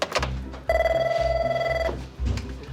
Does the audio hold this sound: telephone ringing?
yes